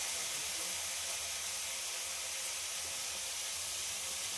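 Vegetables frying in a pan, a dense, steady sizzle and hiss that stays even and close throughout with no talking.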